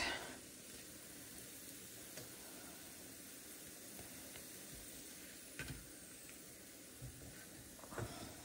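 Food frying in a pan on a stovetop burner gives a steady, close sizzle and hiss throughout, with a few brief clicks and bumps of handling near the end and no talking.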